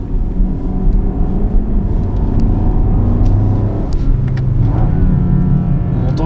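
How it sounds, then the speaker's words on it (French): A steady, low BMW XM 653 hp sports SUV engine rumble idling close by, smooth and fairly loud, with a muffled, subdued exhaust tone from the closed exhaust valve and no voices. "Un peu de bruit de moteur qui vient de devant"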